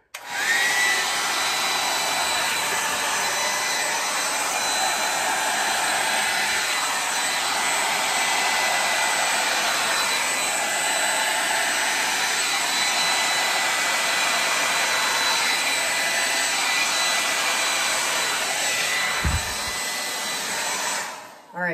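A hair dryer blowing across wet acrylic pour paint, its steady loud whooshing drone running continuously close to the mic for about twenty seconds before cutting off.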